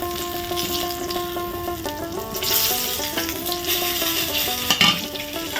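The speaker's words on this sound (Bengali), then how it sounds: "এই দেখো দেখেছো সব মাছগুলোকে ভেজে নিয়েছি।" Small puti fish sizzle in a pan of oil, a busy steady crackle over a low hum with faint scraping and stirring clatter from a utensil, close and continuous.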